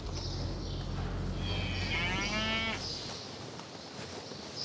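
Dairy cows wait in a barn for a veterinary examination; one long, loud moo rises partway through over a low, continuous barn rumble.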